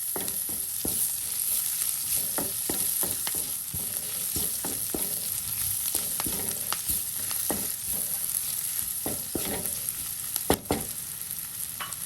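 Food sautés in a pan with curry leaves, a steady bright sizzle of hot oil broken by repeated scraping, stirring strokes, with one sharper clatter near the end.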